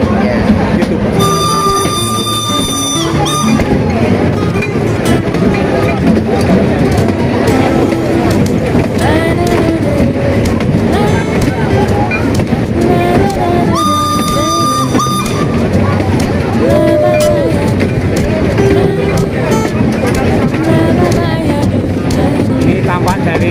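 The Ambarawa steam train riding from Ambarawa to Tuntang, a continuous loud rumble of carriages on the rails with recurring high whistle or squeal tones, and people talking throughout.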